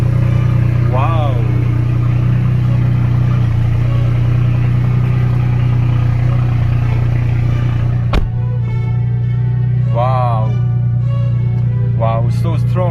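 A 2015 BMW i8 coupe with a 1.5-litre hybrid engine idles close by, a strong steady low hum throughout, while a person talks excitedly over it in short bursts.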